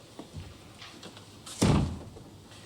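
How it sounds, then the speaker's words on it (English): An indoor door is shut in a scene from the British sitcom Dad's Army, making a single solid slam-thud after a few quiet moments, followed by a short fading tail. "Shut the door, Wilson, please."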